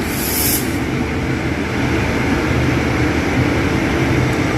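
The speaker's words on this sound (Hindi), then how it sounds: "मैं ट्रेन के साथ साथ चला रही हूँ भारतीय रेल।" Indian Railways passenger train bound for Bhopal rolling past close by, a steady loud rumble and rushing clatter of wheels filling the whole stretch without pause.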